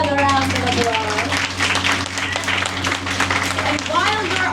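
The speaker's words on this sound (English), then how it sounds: "Let's give them a round of applause." Audience applause fills a ghost cruise aboard the Barbara Lee, steady clapping from a crowd carrying through the whole stretch under loud overlapping voices and cheering.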